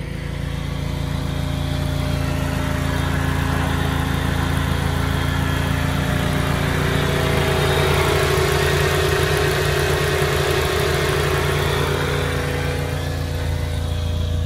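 A 1995 Dodge Neon Sport Coupé's radiator cooling fan whirs in a steady drone without a break beside the idling engine, loud and close, with a constant mechanical hum throughout.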